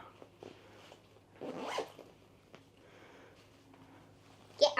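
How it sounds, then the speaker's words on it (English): A suitcase being zipped shut while packing for a Disney World trip, with two short raspy zipper runs, the louder one near the end, amid quiet room noise. "So I'm going to try to zip the ears in here. All right, see if you can zip it up"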